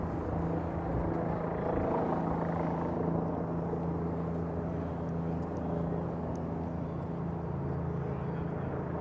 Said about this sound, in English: What's happening with this helicopter?